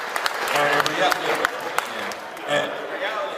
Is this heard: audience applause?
yes